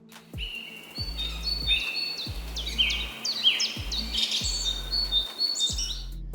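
Birds chirping in an overgrown, abandoned landscape in the Chernobyl exclusion zone, with several quick, bright calls and trills overlapping across the whole stretch, over a bed of faint background noise.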